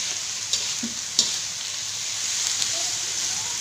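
Kailan greens stir-fried in a wok, a steady broadband sizzle with a few sharp clicks of a utensil knocking the pan, close and fairly loud with no voices.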